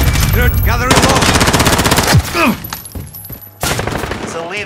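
Loud, close rapid gunfire from a Call of Duty: Modern Warfare firefight comes in bursts and sustained automatic strings, broken by brief gaps, with shouted voices and radio chatter mixed in.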